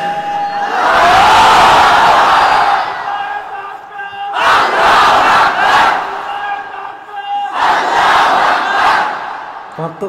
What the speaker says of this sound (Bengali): হ্যাঁ তাকবীর দাও।